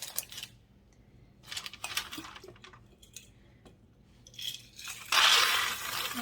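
Dried beans poured from a jar onto parchment paper as pie weights, heard as scattered clicks and rattling bursts that end in a dense rushing clatter, close and fairly quiet with no talk.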